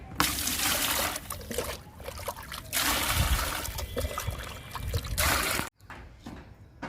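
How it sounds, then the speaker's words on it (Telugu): Aloe vera liquid is poured from a large bucket into a small bucket for watering plants, making close, splashy trickling bursts that pause and resume several times. "ఇది పెద్ద బకెట్ అండి మొక్కల దగ్గరికి తీసుకెళ్ళలేము ఈ చిన్న బకెట్లో పోసుకొని తీసుకెళ్దాము మొక్కల దగ్గరికి"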